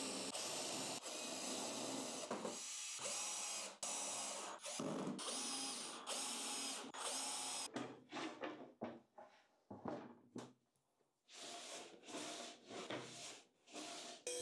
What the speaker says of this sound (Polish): Po nawierceniu fazuję sobie wszystkie otwory po to, żeby łebki ładnie się schowały